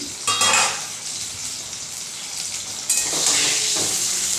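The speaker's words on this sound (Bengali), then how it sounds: "আমি ঢাকা দিয়ে ভালোভাবে ভেজে নেব আলুটা দেখুন" Potatoes frying in a pan for a white sesame chicken dish, a loud close sizzle with bursts of stirring and spatula scraping against the metal, no voices.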